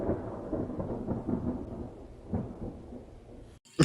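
A thunderstorm rumbles low and continuously for a few seconds, then a sudden sharp, loud crack bursts in at the very end.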